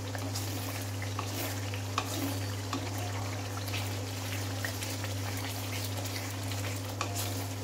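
Spice masala frying in oil for an aloo capsicum paneer dish, giving a continuous close sizzle with scattered soft crackles and spatters, alongside a steady low hum.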